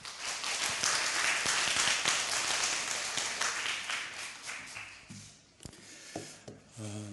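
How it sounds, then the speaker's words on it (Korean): Audience applause for a guest pastor stepping up to lecture at a church gathering, dense and sustained for several seconds, then thinning into scattered claps and faint voices near the end. "박수 한번 해주시죠."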